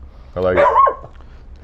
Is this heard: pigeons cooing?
no